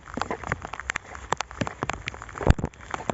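Rain falls on open rice paddies, with scattered drops pattering and ticking close by in an irregular, steady patter and a heavier splat standing out now and then.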